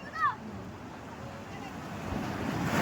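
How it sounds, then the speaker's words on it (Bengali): Large ocean waves break on the beach at Digha at high tide. The surf makes a steady broadband rush that swells louder toward the end, with a brief voice near the start. "ওই দেখো কত সুন্দর ফাটছে ঢেউটা"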